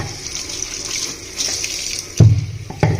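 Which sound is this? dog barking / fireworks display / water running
water running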